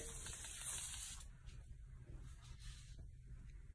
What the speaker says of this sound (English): Spray it, spray it.